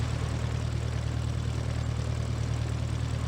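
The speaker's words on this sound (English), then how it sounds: "Let's see if the pilot can stick it on the runway" An airplane landing on a runway in Trainz 2019 hums with a steady, even drone of engine and propeller, low and constant, with no voices.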